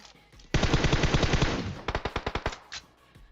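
Rapid automatic gunfire from PUBG Mobile, a sustained burst followed by a string of separate sharp shots, loud and close with no talking.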